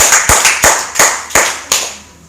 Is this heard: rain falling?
no